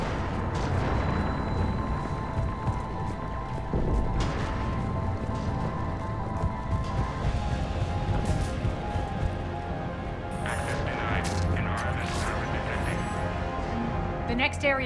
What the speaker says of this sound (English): Those cannons have to be stopped.